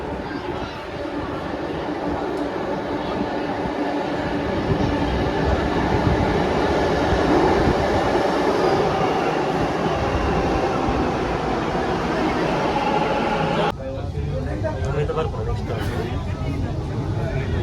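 A metro train runs with a steady, loud rumble and rail noise from inside the carriage, a murmur of passenger chatter underneath, and the sound shifts abruptly near the end as the train changes pace or a door opens.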